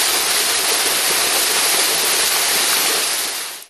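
The famous Girlevik Waterfall in Erzincan, in extreme cold and turning to ice, gives a steady, loud, broadband rush of falling water that holds even throughout and then cuts off at the end, with no voices.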